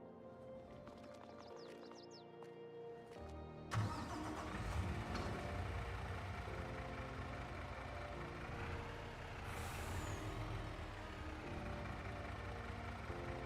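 Truck in Farming Simulator 22 starting up: a cranking start gives way to a steady mid-pitched engine idle that runs on, with a brief hiss of air brakes partway through.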